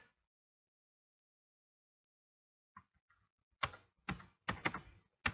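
Several sharp clicks of typing on a computer keyboard as a short line of Python code is entered, a few light taps followed by a quick burst of keystrokes, close and fairly faint in a quiet room.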